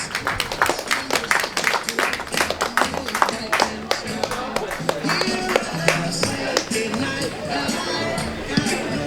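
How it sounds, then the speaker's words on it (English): Crowd clapping for a runner's new personal best at a 3,000 m track race in Lee Valley, a loose scatter of sharp claps from a small group outdoors with voices and chatter mixed in. "Give him a round of applause."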